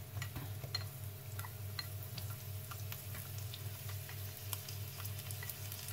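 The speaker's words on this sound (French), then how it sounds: "quand vous voyez que l'huile commence à chauffer, de l'ail, on va mettre l'échalote dedans" Garlic and shallot fry in hot oil for a beef stir-fry with green beans and pineapple, giving a steady, quiet sizzle with faint crackles and light ticks throughout.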